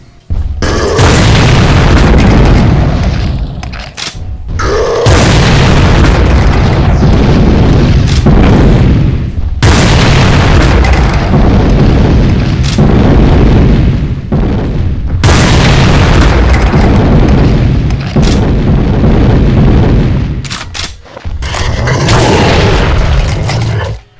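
Rocket blasts from a homing rocket launcher in a modded Doom shooter boom in a rapid, loud, heavy series, each burst rolling into the next with only a few brief gaps.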